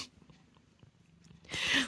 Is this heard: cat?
yes